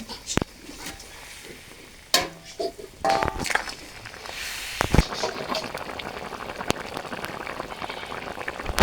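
Fish curry broth made with boal fish boils in a pot, with a soft bubbling hiss, scattered clinks and stirring noises, and occasional talk over it.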